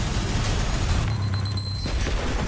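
Explosion set off during a car challenge, heard as a loud, dense low rumble with a blast-like burst near the middle and a thin high whine over it. No one speaks.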